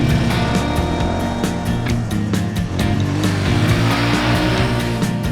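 An expensive adventure motorcycle rides on gravel with a steady, loud engine drone, rumbling and continuous, while road and tire noise fill the background.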